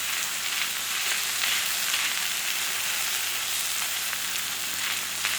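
Butter sizzling on a Blackstone griddle alongside fried rice and steak, a steady close hiss and crackle of frying fat that holds constant throughout with no voices.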